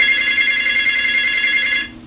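A telephone rings with a steady electronic trill lasting about two seconds, then cuts off, heard alone with no talking.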